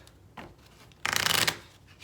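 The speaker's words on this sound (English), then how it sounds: "shuffling the encounter deck" A deck of cards shuffled by hand during a board game, a brief soft riffle followed by a louder, dense burst of rapid card flutter lasting about half a second, close and clear with no talk.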